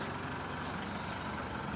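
Isuzu D-Max diesel engine idling while it warms up, a steady low rumble that holds constant and fairly loud throughout, with no talking over it.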